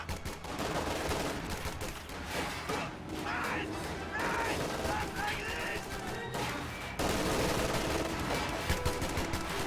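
A video game battle fills with BAR automatic rifle fire: dense bursts and overlapping shots crackle almost constantly, with occasional heavier impacts, while a commentator talks over the action.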